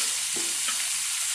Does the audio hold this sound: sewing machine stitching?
no